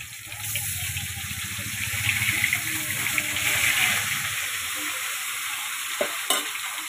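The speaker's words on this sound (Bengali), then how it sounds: "এই যে মাছ ভাজা হচ্ছে।" Fish frying in a pan, a close sizzling hiss with stirring noises that settles slightly toward the end, punctuated by a couple of sharp utensil knocks.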